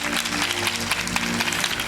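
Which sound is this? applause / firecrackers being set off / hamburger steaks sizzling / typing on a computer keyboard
applause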